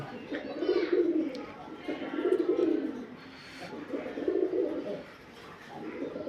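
Pigeons cooing in repeated low, throaty phrases close by, several rounded bursts every second or so with soft background noise.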